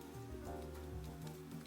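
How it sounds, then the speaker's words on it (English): Soft rain patters steadily against the windows of a quiet cafe in the evening, a gentle, even wash beneath a mellow tonal music bed. "Rain tapping softly against the windows."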